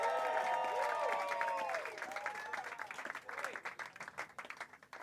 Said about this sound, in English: We're clapping right now for Erik Scott